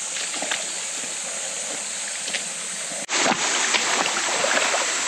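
Steady rushing water from a waterfall in a mountain valley at Naebyeonsan, a dense continuous roar that grows louder and closer partway through.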